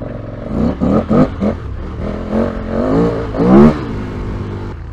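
KTM 1290 Super Adventure S, a 250 kilo adventure bike on 50/50 tyres, ridden hard through sand with a loud, surging engine that rises and falls while wind rushes past close to the rider.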